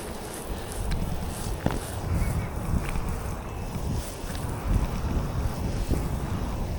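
Wind gusts hard across a roof, roaring and buffeting the microphone in loud continuous rushes with occasional faint knocks, no talking.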